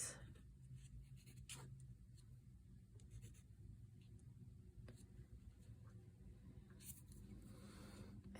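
A pencil sketches on paper at a table, a soft continuous scratchy scraping with a few louder strokes, faint and close under a low room hum.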